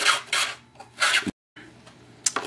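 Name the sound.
sandpaper on tail boom rubbed around inside a hole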